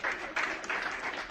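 Audience applause at an academy inauguration ceremony in Aurangabad, a dense steady clapping from a crowd that swells in waves throughout, with no voices over it.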